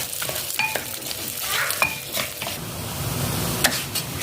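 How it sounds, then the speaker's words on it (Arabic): Vermicelli toasts in oil and butter in a pan, with a soft sizzle under repeated clinking stirs of a utensil against the pan, close and moderately loud. "هنايا عندنا شويه تاع زيت، نزيدو لهم شويه زبده، نرميو في الدويده، نخليوها تتحمص"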